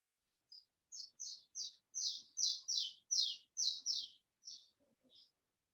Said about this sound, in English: bird that was chirping there